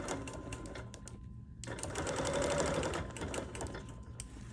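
A sewing machine quilts a fabric piece in fast, steady needle bursts with a short pause partway through, close and clear, with no talking.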